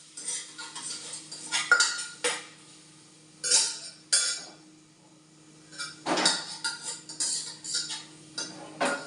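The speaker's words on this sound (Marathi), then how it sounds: "आता हे आपल्याला छान असं परतून घ्यायचं आहे मसाले टाकल्यानंतर" A spatula scrapes and clatters against a pan while a tomato and spice masala is sautéed, with onion and ginger-garlic in it. The strokes come in irregular close bursts separated by short quiet gaps, with no voices.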